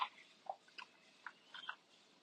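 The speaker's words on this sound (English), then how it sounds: "had a bite out of it because I wanted to see if it was crunchy enough for me" Faint crisp bites and crunchy chewing of a fresh cucumber, several short snaps spaced irregularly in near silence, very close.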